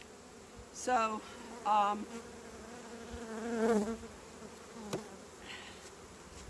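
Honey bees buzz steadily during a beehive inspection with drone comb in the top box, a dense continuous hum with louder passes of individual bees close by and a brief spoken word.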